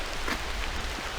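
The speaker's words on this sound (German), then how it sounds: "ist ja hier ein schöner Regen, ein sehr spiritueller Regen." Steady rain falling outdoors, a dense broadband hiss of drops with faint patters throughout, fairly close and continuous, with no voices.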